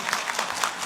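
Audience at an international Hindi conference clapping in honour of women, a brief dense burst of many hands applauding together, close and steady.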